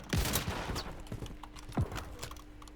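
Scattered gunshots crack in Call of Duty Warzone, a few sharp reports firing from below amid game ambience, moderately loud with no talk.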